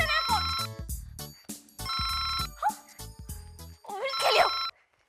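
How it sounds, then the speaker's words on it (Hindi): A mobile phone plays a loud, chiming electronic ringtone in bursts of bright tones with short gaps between them, close by, with a brief voice near the end. "ये मेरा फोन बजा है।"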